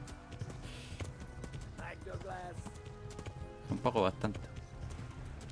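Horse hooves clip-clop in the video game Kingdom Come Deliverance, a steady rhythmic trot under a voice speaking Spanish, with a brief louder burst near the end.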